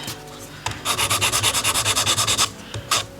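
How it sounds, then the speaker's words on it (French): A nail file rasps against the side of a nail capsule in a quick, even series of about a dozen close scratchy strokes, followed by a pause and a couple of single strokes. "On vient limer un petit peu sur le côté."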